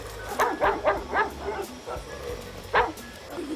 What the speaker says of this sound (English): you hear a dog that come in